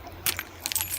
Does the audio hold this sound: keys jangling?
yes